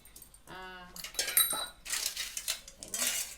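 Metal containers being scrubbed with tamarind in a plate, producing close clattering, clinking and scraping of metal on metal in irregular bursts, with a brief voice sound early on.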